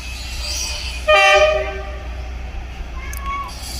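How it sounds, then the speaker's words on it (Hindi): A train horn sounds once, loud and close, for about half a second over a steady rumble of rail noise at Golra railway station, with a faint higher tone later. "ड्राइवर साहब ने विसल बजाया और अलर्ट किया।"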